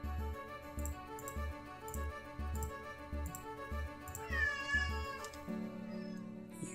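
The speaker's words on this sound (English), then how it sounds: "You can probably hear my cat." A cat lets out a drawn-out meow over steady background music with a soft repeating low beat.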